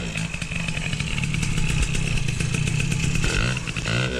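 A small engine fitted with a freshly swapped VM20 carburetor and fiber reeds revs hard and loud up close, holding a steady buzzing roar for about four seconds before the throttle drops and it settles back.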